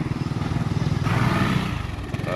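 An FKM Slick 400 maxi scooter with a 400cc engine runs close by, its single-cylinder exhaust thumping in a fast, steady pulse with a brief rev partway through.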